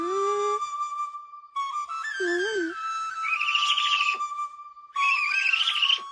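A voice whistles an imitation of a bird call, with clear rising and wavering tones in short phrases, then warbling trills, close and fairly loud.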